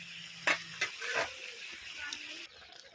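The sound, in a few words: stirring chicken liver frying in a pan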